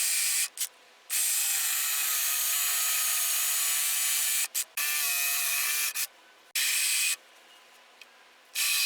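Wood for an archery backstop is sawn by hand along marked lines, a harsh rasping that runs in long strokes broken by short pauses, close by and with no talking.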